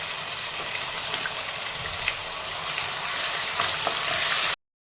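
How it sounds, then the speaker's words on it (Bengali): Ground spice paste, freshly blended in a mixer, sizzles in hot oil with a continuous close, even hiss and faint crackles, then cuts off abruptly into silence. "এবারে তেলের মধ্যে আমি দিয়ে দেব মশলা, যে মশলাটা এক্ষুনি বাটলাম মিক্সিতে"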